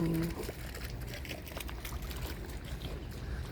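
Water runs through a garden irrigation channel at a heritage garden in Riyadh, a soft continuous trickle and gurgle under faint background voices.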